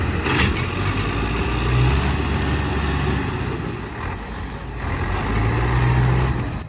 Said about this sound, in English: The T150 fights with everything it's got, engine roaring, wheels spinning